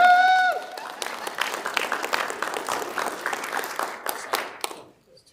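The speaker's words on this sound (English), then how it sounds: "Yay! We can clap." A room of people at a Fort Belvoir housing town hall claps together, a brisk scattered round of applause that swells then tapers off and stops near the end, after a brief voice at the start.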